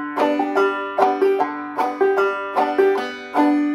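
A clawhammer banjo picks out the Auld Lang Syne melody in a steady bum-ditty rhythm, bright plucked notes with brushed strums repeating evenly, played alone and close.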